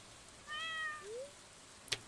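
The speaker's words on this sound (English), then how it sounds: "Told you he was a big cat." A cat meows in the Stardew Valley video game during a cutscene: one clear, drawn-out meow with a falling tail, fairly quiet, then a brief click near the end.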